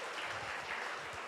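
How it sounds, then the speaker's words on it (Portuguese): Short burst of audience applause at a lecture on autism and disabilities, a dense patter of clapping at moderate distance with no talking. "Palmas para ela, pessoal"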